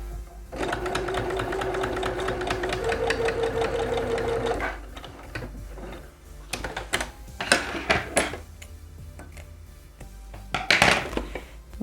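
A sewing machine runs a short 1 cm seam on a handmade almond bag, whirring steadily for about four seconds, then falls quiet, followed by scattered fabric handling noises and a brief final burst.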